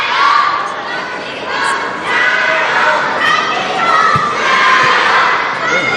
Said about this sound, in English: Crowd chanting passionately for Zhang Jike.